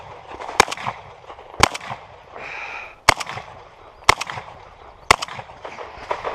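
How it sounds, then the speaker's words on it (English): Five loud, sharp shotgun blasts during a 3-Gun shooting competition, fired one after another at roughly one-second intervals, each a crisp crack with a short decay. "Okay, shotgun."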